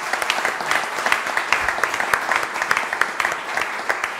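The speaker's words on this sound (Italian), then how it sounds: "alzatevi per favore perché vorrei dedicarvi un applauso" Sustained applause at a railway conference in Lanciano, Italy, honoring two colleagues: a steady wash of many hands clapping, dense and fairly close, with individual claps popping through the rhythm.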